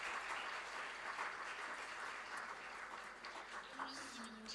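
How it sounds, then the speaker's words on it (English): An audience applauds conference panelists with a soft, distant, continuous patter of clapping at an international conference on children's mental health and wellbeing. "a huge round of applause for our panelists"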